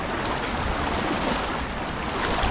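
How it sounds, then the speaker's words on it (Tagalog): Strong river water rushing at a fishing spot, a loud, steady broadband roar that fills the whole stretch with no break and no voices. "Lakas ng tubig."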